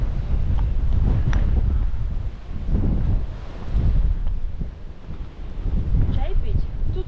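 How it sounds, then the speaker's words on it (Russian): Strong gusty wind buffeting the microphone outdoors on a hill near the Istanbul coast, rumbling in uneven surges with brief lulls, under occasional faint talk. "Тут везде ветрище."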